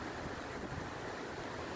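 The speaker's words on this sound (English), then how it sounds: "It's getting pretty windy out here." Steady wind blowing outdoors, a constant broadband rush with low buffeting rumble against the microphone throughout, close and fairly loud, with no talking.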